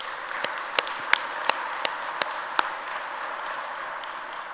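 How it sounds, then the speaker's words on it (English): Audience applause at a transportation conference closing session honoring the planning committee, a steady wash of many hands with a few sharper individual claps standing out over about four seconds, moderately distant. "So please give them a round of applause and thank them for all the work that they did."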